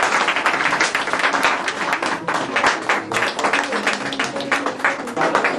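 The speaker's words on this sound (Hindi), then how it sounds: "पुरस्कार देते हैं तो जोर से ताली बजाएंगे" Dense, steady clapping from an audience applauding students as they receive prizes at a Vedanta Balco event, continuing without a break throughout.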